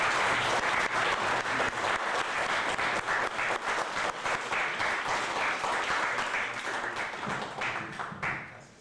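An audience at a book presentation applauds Dr. Joel Ackerman, a sustained, fairly close round of clapping from a seated crowd that stays even and then fades out at the end.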